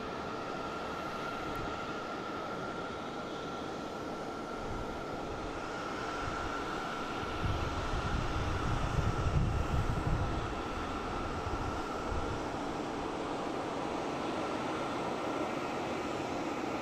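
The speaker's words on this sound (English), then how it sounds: "next coming in we have Aeromexico coming in from Mexico City. Flight 640 at 737-800" An Aeromexico Boeing 737-800 comes in to land at Boston Logan International Airport, a broad distant roar that swells into a heavier low rumble midway before easing back to a steady drone.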